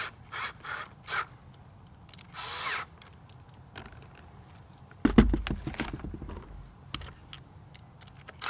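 A power drill fitted with a socket attachment tightens nuts while string lights are hung over a backyard, in a few short whirring bursts between quieter pauses, with one louder ratcheting run near the end.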